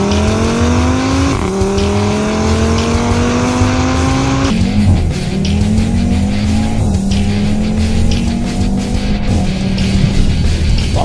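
An Audi TT RS with a 2.5-litre five-cylinder engine pulls hard through several gears, its loud rising engine note climbing and then dropping at each shift, with tire and road noise underneath throughout.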